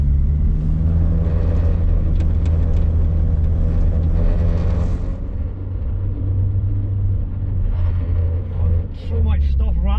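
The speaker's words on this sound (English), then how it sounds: "So much stuff rattling in this car." An old Vauxhall Nova rattles and buzzes from loose items inside while it idles and pulls through traffic lights, steady engine rumble underneath with a brief squeak near the end; no talking.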